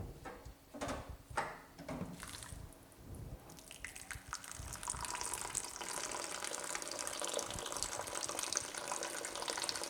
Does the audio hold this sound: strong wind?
no